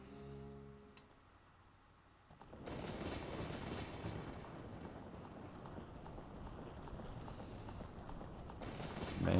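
Horse hooves in Zelda: Ocarina of Time, a black horse galloping in a steady, continuous drumming that starts after a short musical passage and stays loud, blended with game music and rumbling sound effects.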